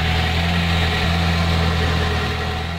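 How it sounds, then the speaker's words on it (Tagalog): Air-conditioning compressor of a 1992 Toyota Corolla runs after a thermostat change, giving a loud, steady engine-bay hum with an even low drone and no talk. "Gumagana po yung compressor."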